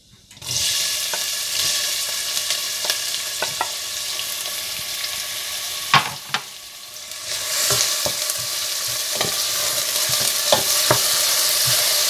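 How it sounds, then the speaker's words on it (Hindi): Onions and whole cumin seeds frying in hot oil, a loud continuous sizzle with intermittent clicks and scrapes of stirring close by. "तेल गर्म करें और इसमें साबुत जीरा और प्याज डालकर थोड़ा भून लें"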